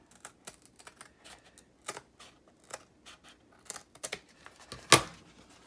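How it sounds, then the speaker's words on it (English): Paper journal cover being trimmed, a run of short, sharp snips and crisp cuts in an irregular rhythm with quiet pauses between, ending in one louder cut, close and alone. "So I am going to go ahead and trim this"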